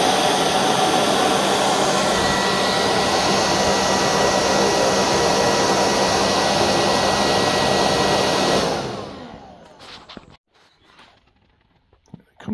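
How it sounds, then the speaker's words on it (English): An inexpensive Chinese-made electric blower roars steadily while blowing off a plasma-cut metal workpiece, loud and close for about nine seconds before winding down into quiet scattered clanks and handling noises. "And then I got a Chinesium blower here that a company sent me"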